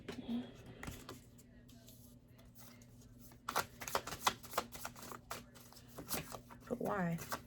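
Tarot cards being shuffled for a reading, with soft scattered flicks, then a busy run of riffling and snapping cards close by, as a voice talks briefly near the end.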